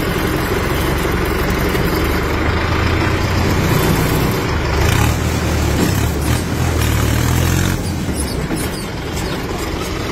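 Mahindra Ultra 605Di tractor running hard with its diesel supply turned up, a loud, steady rumbling engine drone throughout with rattling mechanical noise and no talk.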